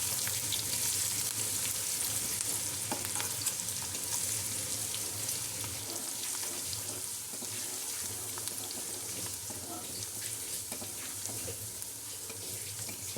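Sliced onion, green chilies and curry leaves sizzle and crackle steadily in hot oil in a pan, a dense continuous frying hiss that holds at an even level with no talking.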